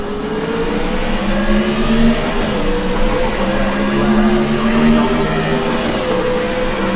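Race cars in an iRacing NASCAR Gen 4 Cup race at Dover Motor Speedway accelerate on a restart, a layered field of engines droning and rising in pitch steadily throughout, with no talk.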